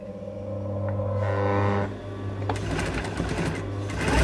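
A sewing machine runs steadily while stitching an armhole seam on an A-line baby doll dress, opening with a short back tack before settling into a continuous close, loud mechanical hum.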